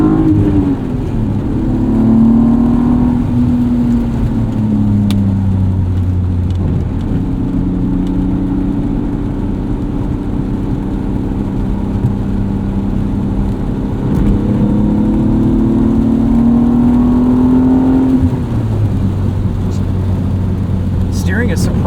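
A 1998 BMW E36 M3 sedan accelerates from a second-gear start, its engine note rising in pitch through two long pulls with a gear change between, loud and close from inside the cabin, with a steady road roar underneath.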